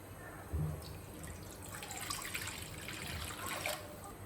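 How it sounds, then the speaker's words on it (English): Water is poured into a cooking vessel on the stove while a chicken fry is prepared, giving a soft continuous trickle and splash with a small clunk near the start and another bump toward the end, heard alone. "take any vessel, add water."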